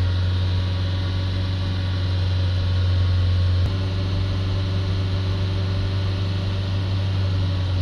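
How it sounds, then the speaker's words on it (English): A car engine with a fault that no mechanic could solve is held at raised revs, giving a constant steady drone and hum that shifts slightly partway through, with no talking. "Just hold these revs there for a minute or two."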